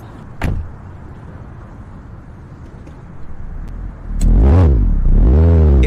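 A restored Honda Prelude engine cranks and catches, then revs up twice in strong rising-and-falling surges, preceded by a sharp door-like thunk and a quiet idle stretch, close and loud.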